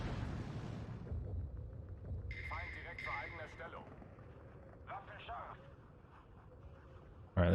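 Bombs exploding in the World War II strategy game Steel Division 2, on the Orsha campaign: a heavy, rolling low rumble with scattered muffled blasts, then a sudden sharp loud impact at the very end.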